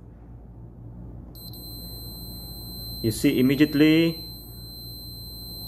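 A thin, faint electronic beep tone from a multimeter testing a MOSFET sounds steadily in a quiet room, followed by a brief spoken remark.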